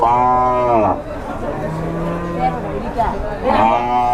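Cows moo loudly and close by at a livestock market, two long harmonic calls bracketing a stretch of softer animal sounds and background crowd chatter.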